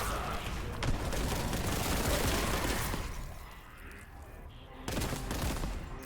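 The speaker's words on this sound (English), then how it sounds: "A bolter has a great sound to it as well." Bolter gunfire from the shooter game Warhammer 40K Boltgun: dense, loud, continuous bursts of heavy automatic shots with booming impacts. The firing eases briefly, then returns at full force.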